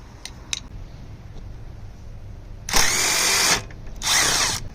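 A power tool whirs in two short bursts while removing the bolt from a lawn mower's butterfly choke control arm, loud and close, separated by a brief pause after quieter clicks.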